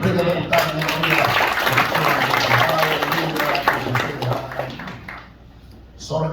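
A church congregation claps in lively applause during a sermon, a dense, fairly close wash of hands that holds steady for several seconds, then thins out and drops away near the end, with a faint voice underneath.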